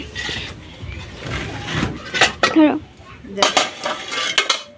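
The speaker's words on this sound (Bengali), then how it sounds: "পাতিলের মুখটা একটু মুছে নিলাম" A metal cooking pot of freshly cooked meat is handled on a stove and its rim wiped with a cloth, producing close clanks, scrapes and rustling rubs in uneven bursts, with someone talking briefly over the clatter.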